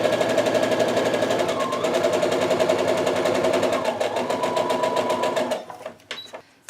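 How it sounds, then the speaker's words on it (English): A sewing machine stitches a Kaleidoscope quilt block in a fast, even run of needle strokes, close and loud, before slowing and stopping near the end. "now I'm going to sew down the other side of that line"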